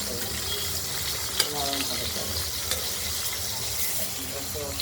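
Chopped tomatoes frying with potatoes in a pan for a spicy katla fish curry, giving a steady sizzling hiss with a few light stirring knocks throughout.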